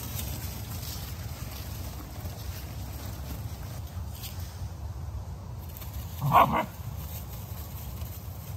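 A single short dog bark rings out once, close by, against a steady low rumble of background noise.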